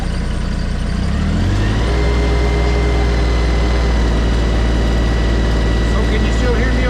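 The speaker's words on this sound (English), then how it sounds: "I'm going to rev the engine up to about what the RPM would be" An engine revs up with a rising drone in the first couple of seconds, then holds a loud, steady roar at higher RPM, heard close by and without a break.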